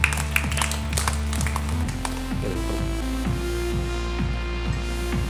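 Children clapping together in rhythm, steady evenly paced claps over sustained musical tones, fairly close and continuing without a break.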